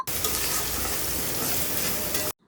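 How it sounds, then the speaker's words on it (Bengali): Sliced onions fry in hot oil in a pan with a dense, even sizzle that stays loud and constant until it cuts off abruptly near the end. "এখন পেঁয়াজটা ভালো করে লাল করে ভেজে নেব।"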